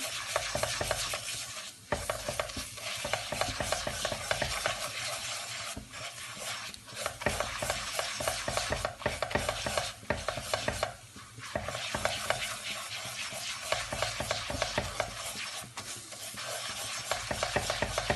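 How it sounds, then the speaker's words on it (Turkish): Pepper paste and tomato paste fry and sizzle in a pot for barley vermicelli soup, with steady stirring and scraping of a utensil throughout, close and continuous with brief pauses. "Hemen ben salçalarımı, biber salçamı ve domates salçamı atıyorum içine. Kavurma işlemine devam ediyorum."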